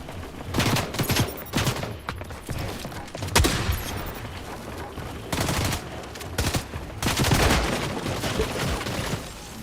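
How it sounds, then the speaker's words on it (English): Video game gunfire in rapid bursts, a dense crackle of automatic shots and volleys coming in several loud clusters separated by brief lulls, close and continuous. "Somebody else is shooting at him."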